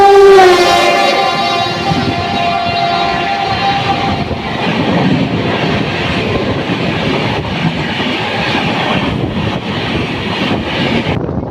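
A local train on the Kalyani to Budge Budge line sounds a loud horn blast, then runs on with a steady, rumbling roar and clatter of wheels on track, close and continuous, with no talk.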